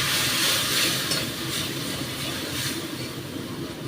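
Dal with sweet potato sautéing in a pan gives a soft, steady sizzling hiss with faint stirring scrapes, quiet and continuous, with no voice over it.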